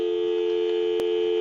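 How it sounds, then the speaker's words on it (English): Steady telephone dial tone humming continuously through a Western Electric 250 W wood wall telephone, with a single brief click partway through. "We'll give you some dial tone."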